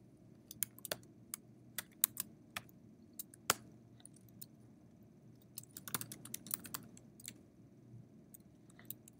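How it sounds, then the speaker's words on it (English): Keys clatter on a computer keyboard in quiet, irregular bursts of light clicks with brief pauses and an occasional louder keystroke, close but soft. "This time I'll decide to type it out."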